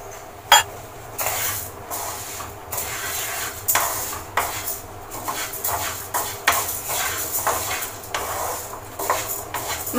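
Moong dal fried in a pan on a gas stove, a steady close sizzle and hiss with repeated scraping and clinking of a spoon against the pan in uneven bursts.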